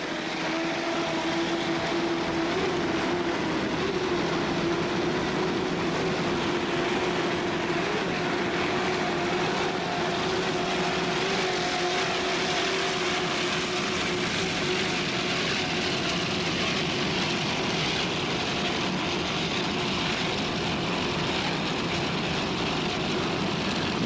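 A 32-foot Douglas Skater offshore racing powerboat roars at the 1995 Key West World Championship, a continuous droning engine whine heard from a distance under wide broadband rush, steady throughout.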